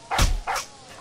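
Two quick, loud dog barks from the Maplestory 2 video game ring out close together, the second slightly softer, with no talking over them.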